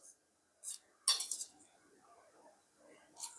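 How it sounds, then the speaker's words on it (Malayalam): A spoon scrapes cooked egg loose from the sides of a pot while making egg 65, giving a few short metallic clinks and scrapes, close and fairly quiet, with long pauses between. "നമ്മൾ ഇത് പാത്രത്തിൽ നിന്ന് ഇളക്കിയെടുക്കാൻ വേണ്ടി നമ്മൾ കരണ്ടി കൊണ്ട് സൈഡൊന്ന് കട്ട് ചെയ്ത് ഇങ്ങനെ കൊടുക്കുക"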